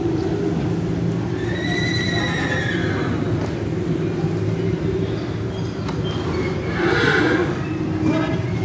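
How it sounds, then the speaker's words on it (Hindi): A horse neighs at the Faisalabad animal market, with whinnies rising over a constant loud crowd and market din. A stronger neigh comes near the end. "बड़ा खूबसूरत घोड़ा है"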